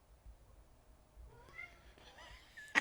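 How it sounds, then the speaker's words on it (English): A cat meows a few times after a door is pushed open, fairly faint with a short louder cry at the end against quiet room noise. "Your cat opened your door?"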